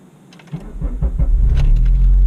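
A stock, unmodified car engine starts up close by: a starter cranks for about half a second, then the engine catches and settles into a loud, steady low idle.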